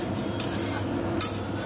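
A spatula scrapes and clinks through spiced mutton masala in a pan, two short metallic stirring strokes over a soft background hiss, close and clear.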